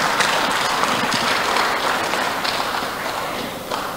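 An audience applauds steadily throughout, dense sustained clapping from a crowd at an Indonesian national aquaculture event following a speech by the Minister of Marine Affairs and Fisheries, with no talk over it.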